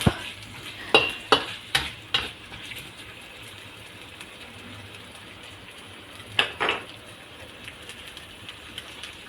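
Sliced pork and carrot stirred in a pan for pancit bihon, with a few sharp spatula scrapes and clacks in a quick cluster, then another pair later, over a soft continuous sizzle.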